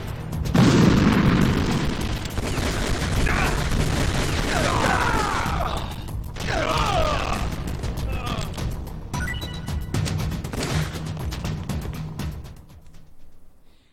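A grenade goes off in Metal Gear Solid: The Twin Snakes, a heavy booming blast followed by scattered bursts, crashes and gunfire-like pops that trail off over several seconds.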